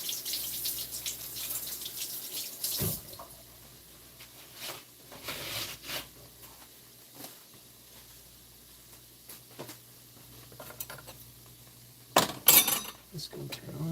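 Water from a kitchen tap runs softly as a zucchini is rinsed in the sink, with faint splashing and clinks of dishes amid quiet background noise.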